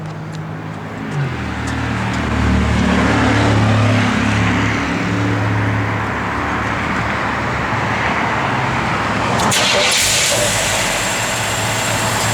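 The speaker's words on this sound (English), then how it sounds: "Truck runs and drives excellent." A 1959 Chevrolet Apache truck engine runs with a steady low rumble under road and wind noise, loud and continuous, with a brief clunk near the end and no talking.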